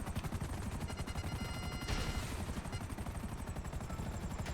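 Rapid automatic gunfire from a helicopter in GTA 5 Online, a dense, continuous stream of shots over the rotor's drone, loud and close, with no talk.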